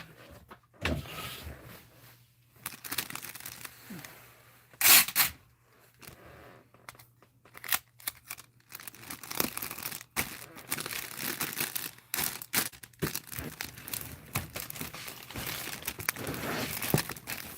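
Ribbon being handled and tied into a bow around a large mug, giving close crinkling, rustling and sliding sounds in irregular bursts, with a person talking intermittently.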